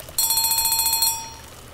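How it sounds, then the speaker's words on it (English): A ringing bell in a video game, a rapid metallic trill of about a dozen even strokes that stops sharply and leaves a short fading ring, with no talk. "there's a bell."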